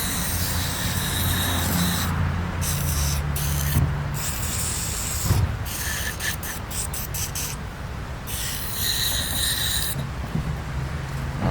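An aerosol can sprays cleaner onto AK-74 rifle parts such as the muzzle brake and recoil spring hole, in long loud hissing bursts broken by short pauses, close up with no talking.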